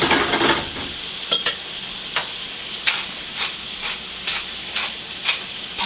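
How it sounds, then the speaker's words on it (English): Liver frying in about two tablespoons of butter in a skillet over medium-high heat, a continuous close sizzle punctuated by regular sharp ticks and taps of a utensil against the pan. "I'm gonna melt a little bit of butter, about 2 tablespoons in our skillet. Right now I have it on medium-high, and just toss all the liver here."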